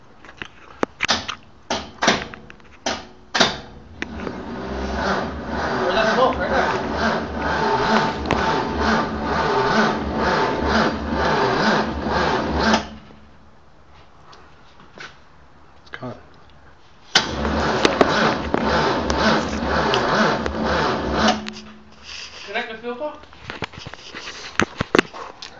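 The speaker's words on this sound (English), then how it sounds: "it's going to be the first crank test motor, part one, rebuilt." A rebuilt motor being cranked for its first crank test: a steady mechanical churning runs for about thirteen seconds, stops, then cranks again for several seconds, with brief clicks and people talking around it.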